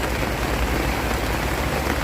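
Heavy rain drums steadily on an emergency camping tent, a dense, loud and continuous hiss with no pauses and no voices.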